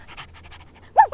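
A dog panting in quick soft breaths, then two sharper yelping barks close by at the end.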